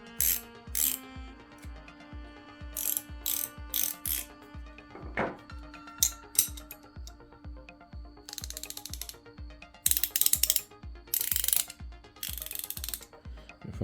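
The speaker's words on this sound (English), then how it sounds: "we will use it on some of these bolts I have there, like we did with the other ratcheting wrenches" Craftsman V-Series ratcheting wrench clicking rapidly and steadily while turning bolts, the pawl ticking in a close, loud, continuous rhythm with brief pauses and a few louder scraping bursts near the end.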